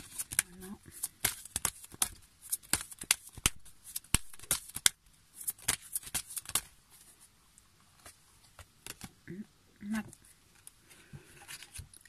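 Tarot or oracle cards are shuffled and laid out on a table, giving a series of sharp close snaps, flicks and soft slides, with a voice speaking quietly in between.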